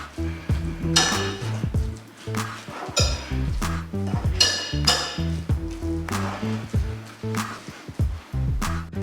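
Soft cooked potatoes mashed with a fork in a pot or bowl, rhythmic repeated metallic clinks and squishy thuds in steady strokes, close and fairly loud, no talking.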